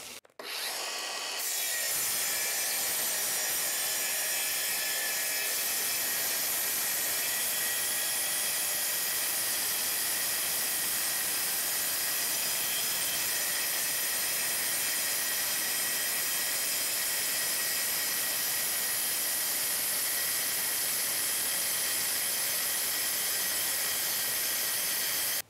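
Bosch GKM 18V-50 cordless metal circular saw cutting through 3 mm steel sheet, a loud, continuous high-pitched whine and grinding hiss that starts abruptly and runs steadily for the whole stretch with no talking.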